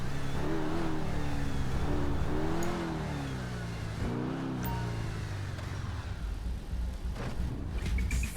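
Cars revving and accelerating together in a GTA V street race, a continuous loud engine drone with rising and falling pitch sweeps as the vehicles speed off from the start.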